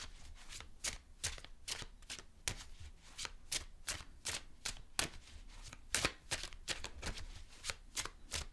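Tarot cards are shuffled by hand in a steady run of crisp, papery riffles and slaps, repeating roughly every half second. The sound is close but fairly soft, with no talking.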